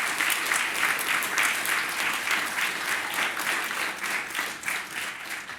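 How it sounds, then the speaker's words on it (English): Audience applause at an inauguration ceremony, a dense sustained round of clapping from a large crowd filling the room evenly for several seconds, with no talking over it. "let's give all this year's participants a round of applause"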